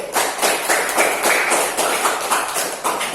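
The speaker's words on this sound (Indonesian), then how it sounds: "Tepuk tangan buat kalian semua dulu." Students in a classroom applauding together, a dense, steady burst of close clapping lasting a few seconds with no talk over it.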